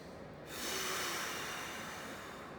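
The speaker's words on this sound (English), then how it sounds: "Audible exhales are nice here." One long audible exhale during a breathing exercise, a soft breathy hiss that swells and slowly fades, close and quiet.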